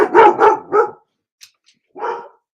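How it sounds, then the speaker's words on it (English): A dog barks three times in quick succession, loud and close, then after a short pause gives one more bark, all with no talk over it. "Sorry about the dog. He got triggered."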